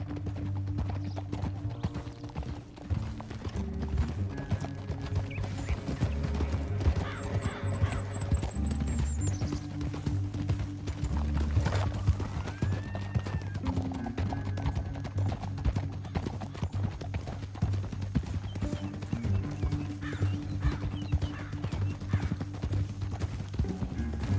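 Horse hooves clip-clop steadily throughout in Red Dead Redemption 2, with a faint whinny, set against sustained game music and ambience and occasional brief talk.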